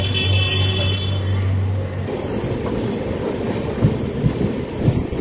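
Amaravathi Express pulling out of Tenali junction, its rumbling wheels and rail noise carrying steadily throughout with occasional louder clanks, heard from on board.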